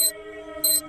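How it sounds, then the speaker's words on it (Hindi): A morning alarm clock rings in two short, bright electronic bursts separated by a brief pause, loud and close in a quiet room. "सुबह होने पर अलार्म बजता है।"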